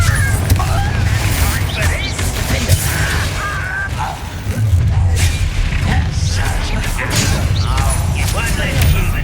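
Loud, continuous battle noise from Hogwarts Legacy: booming blasts and crashes from the Confringo spell mix with clanking mechanical effects and voices throughout.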